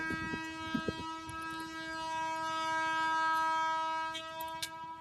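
A train sounds its horn with a long, steady multi-tone blast while passing a rural railway crossing, with rumbling clatter underneath and a few sharp clicks near the end.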